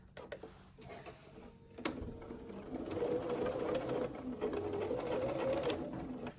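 A sewing machine stitches bias tape onto a pocket, running forward and then in reverse, its steady motorized whirr close and continuous for several seconds after a short start.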